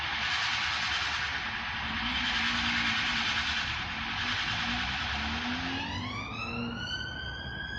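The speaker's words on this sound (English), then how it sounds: "Our police car sound like a fucking spaceship." A police siren wails loudly and steadily, then shifts into a rising electronic sweep near the end, with a faint engine rumble beneath.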